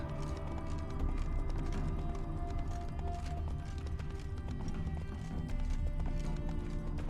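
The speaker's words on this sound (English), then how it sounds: "Whoa there, Roach" Horse hooves gallop at a steady, driving clip-clop in The Witcher 3, loud and continuous over game music, with an occasional whinny.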